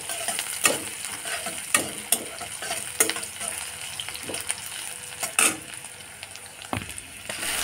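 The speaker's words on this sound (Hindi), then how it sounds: "अब इस प्याज को ना अच्छे से फ्राई करना है जब तक ये थोड़े ब्राउन कलर के ना हो जाए" Onions frying in oil in a pan for a spicy egg curry, a steady close sizzle with scattered clicks and scrapes of stirring, no talking.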